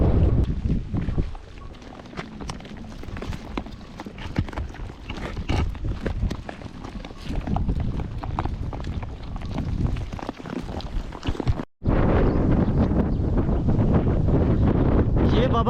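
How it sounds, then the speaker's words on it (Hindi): Strong wind from a dust storm in a Pakistani desert village roars and buffets the microphone in loud, gusty bursts, broken by one brief drop to near silence before resuming at full force. "अभी मिट्टी का तूफान शुरू हो गया इस साइड पर और काफ़ी ज़्यादा मिट्टी जो है उड़ रही है"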